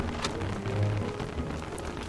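Rain in the video game Don't Starve, a steady patter of drops on a surface with a low rumble underneath, continuous and fairly quiet with no voices.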